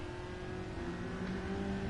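A steady race car engine drone in the video game Gran Turismo 7, with a sustained hum and slight rising rev toward the end, continuous and fairly close.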